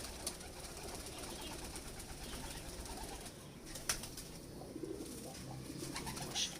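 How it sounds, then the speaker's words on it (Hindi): Soft cooing and wing flutters from an original Heera Lal pigeon in a loft, faint and close, with light rustling and scattered chirps. "ओरिजिनल हीरा लाल कबूतर है माशाल्लाह"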